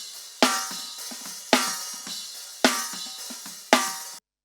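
A snare drum picked up by top and bottom mics blended together gives a broad, neutral snare-wire rattle. Four evenly spaced, punchy hits each decay quickly, close and loud, with no voices.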